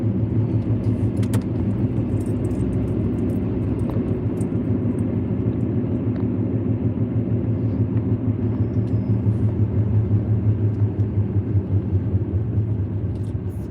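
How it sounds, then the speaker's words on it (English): A steady low rumble of a car driving, with a rhythmic pulsing drone from the tires on the road, continuous and heard from inside. "It almost sounds like I've got a flat tire"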